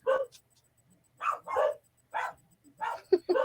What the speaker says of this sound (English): I hear the dogs in the background